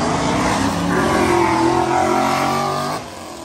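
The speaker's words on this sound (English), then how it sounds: "You heard that spool on that 370?" Boosted Nissan 370 accelerating hard during a street race, a loud, sustained engine roar with rising pitch over about three seconds, then dropping off sharply near the end.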